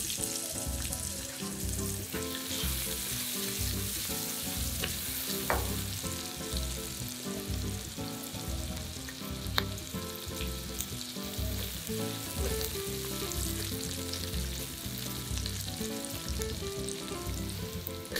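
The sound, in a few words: shallots and garlic sautéing in a pan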